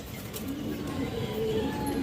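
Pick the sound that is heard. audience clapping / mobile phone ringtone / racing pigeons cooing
racing pigeons cooing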